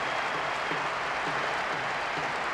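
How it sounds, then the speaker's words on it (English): A stadium crowd in the PES 2009 football video game roars after a goal, a dense, continuous wash of cheering at steady loudness with no break. "The team supporters certainly making their presence felt cheering that goal."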